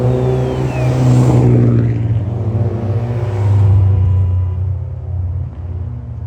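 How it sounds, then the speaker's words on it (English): Loud engine roar rising and falling as a car and motorcycle rev and accelerate nearby in a street race on Alaska's Kenai Peninsula, a deep rumble with pitch sweeping up and down. "Motorcycle versus car is what it sounds like."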